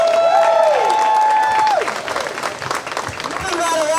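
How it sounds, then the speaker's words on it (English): Enthusiastic crowd applause at an outdoor protest in Bodman Park, loud sustained clapping with a long whistle and cheers over it, easing slightly before swelling again. "Let's give her another round of applause."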